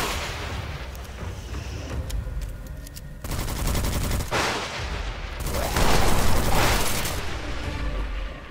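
SMG fire in the first-person game Witchfire, loud rapid bursts of automatic shots rattling continuously with short gaps, dense and close, with booming impacts mixed in.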